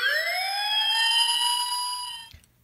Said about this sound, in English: a siren like this is designed by an engineer to cover a large spectrum of sound